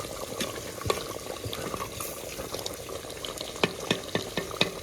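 A meat curry simmers in a clay pot as a spoon stirs it, giving steady wet bubbling and sizzling broken by periodic sharp scrapes and taps of the spoon against the pot, close and moderately loud with no talking.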